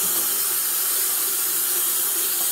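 Steady hiss of water running from a sink tap while acrylic and wool yarns are rinsed in a dye pan, a constant even flow with no talking.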